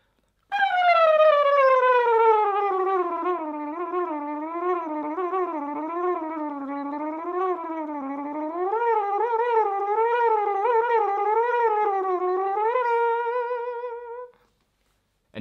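A person's voice imitates a trumpet with a fluttering tongue effect, playing a fast, wavering Flight of the Bumblebee line alone for about fourteen seconds in a quiet room, the buzzy tone rising and falling continuously.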